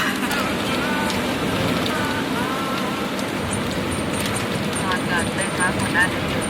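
Dense, steady hiss of heavy rainfall, constant and enveloping, with people talking over it throughout.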